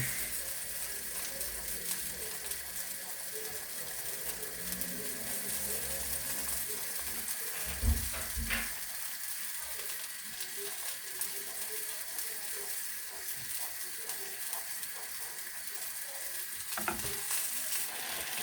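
Risotto with crumbled Morteau sausage and chicken stock cube being stirred in a pan gives a continuous soft sizzle with occasional scraping and clinking of the spoon, fairly quiet and without talk.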